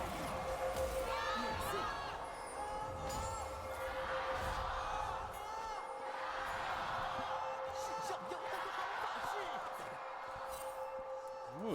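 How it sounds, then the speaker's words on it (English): A split crowd at an esports arena during a League of Legends match between Top Esports and Team WE cheers and shouts in swelling waves, with a commentator talking over the noise. "It sounds like we do have a bit of a split crowd"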